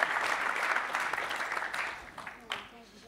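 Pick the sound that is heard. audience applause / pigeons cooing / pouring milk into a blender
audience applause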